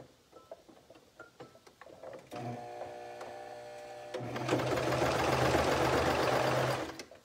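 A domestic sewing machine stitches along a fabric edge at the elastic casing, starting with soft clicks and handling noise, then a humming run that speeds up into a louder steady whir before stopping.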